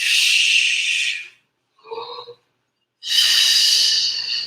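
Two long, forceful breathy exhales during a Pilates twist, close and loud, separated by a short quieter breath sound with a faint voiced edge.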